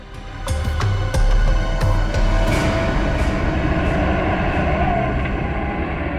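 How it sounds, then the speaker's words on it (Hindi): A heavy truck engine rumbles loudly and steadily in a jungle, with rattling clanks early on, like a big vehicle rolling past close by. "ट्रक की आवाज? ट्रक जंगल में?"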